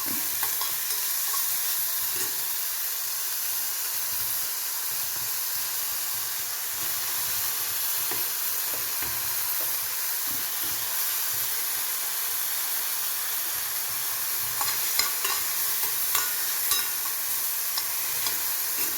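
Sliced onions with a little salt sizzle steadily in a pan for egg curry, a constant close hiss with occasional soft stirring scrapes and light crackles near the end, no talking.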